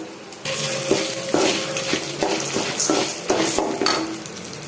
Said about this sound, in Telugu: జీలకర్ర వేసేద్దాం ధనియాకుల వేసేద్దాం ఇప్పుడు ఎండుమిర్చి కూడా వేసేద్దాం